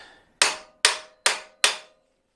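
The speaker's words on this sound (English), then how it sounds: "an impact screwdriver works very, very well" An impact screwdriver, struck with a hammer, drives out stripped screws on a V12 Jaguar XJS, giving four sharp, evenly spaced metallic blows with short ringing decays, loud and close, with no talk.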